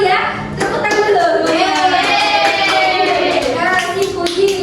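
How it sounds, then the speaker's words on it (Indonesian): Children clapping together in a classroom after a student presentation, a dense, continuous patter of many small hands, loud and close, with children's voices mixed in throughout. "Tepuk tangan dulu."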